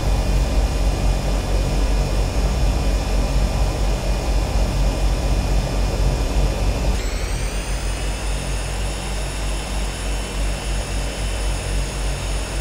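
Twin turbine engines of a Turbine Duke aircraft spooling down in the Prepar3D flight simulator: a loud, steady turbine whine and roar that drops in pitch partway through and settles into a lower, fading hum.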